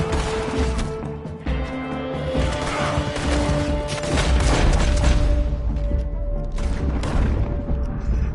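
A loud explosion in the Red Dead Redemption 2 video game, a heavy booming blast with crashing debris that fills the whole stretch amid game music and rumbling action.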